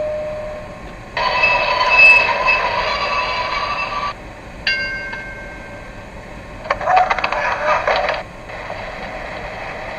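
Sound effects from a 1999 MTH Washington DC PCC streetcar model making a station stop: sharp bursts of bright tonal squeal and clatter start and stop in turn over a steady low hum.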